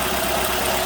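A 2006 Nissan X-Trail engine runs steadily at idle, a continuous mid-pitched hum with slight vibration heard up close with no talk.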